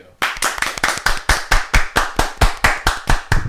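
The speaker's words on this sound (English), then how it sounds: "Give it up now that we can actually do a round of applause, a real gentleman's round of applause" A small group at a live podcast recording claps in slow, deliberate unison, a steady rhythmic beat of about four sharp claps per second, loud and close, with no voices.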